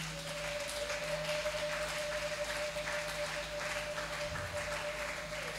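A church congregation applauds in a steady, dense wash of clapping that carries on at an even level throughout, with a faint sustained tone behind it.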